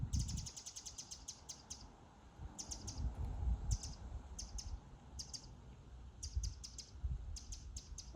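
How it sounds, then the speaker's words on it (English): Small bird singing at a UK allotment in August, repeated bursts of high rapid chirping trills separated by short pauses, fairly clear over low rustling and wind-like background noise. "can you hear that bird?"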